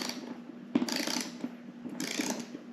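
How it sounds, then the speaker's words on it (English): A torque wrench ratchets while tightening motorcycle seat bolts on a Saddlemen Explorer LS seat, with two close, steady bursts of rapid mechanical clicking and a short pause between them. "I will be torquing these down with 15 foot-pounds of torque"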